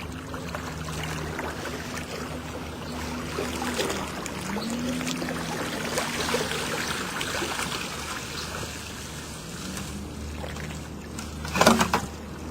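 Lake rake with tines drawn back across a lake bottom, giving a continuous watery swishing and trickling close by, with a brief louder splash near the end.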